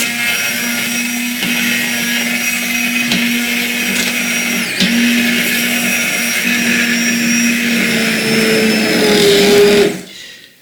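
A blender purees vegan cream of potato soup, running as a loud, steady whir with a constant motor hum that cuts off abruptly near the end.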